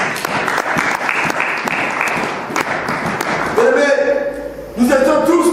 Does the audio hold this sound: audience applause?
yes